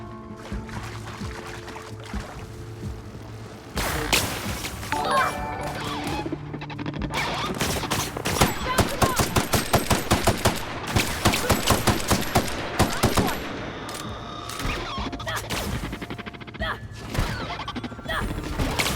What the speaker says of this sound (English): Yeah, let's shoot lasers.